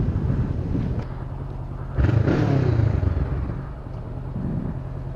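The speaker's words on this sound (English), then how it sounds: "Man, honestly, I love this bike." Honda CBR 500R motorcycle under way, its engine drone steady and mixed with heavy wind rush, swelling louder midway as it speeds up, then settling back.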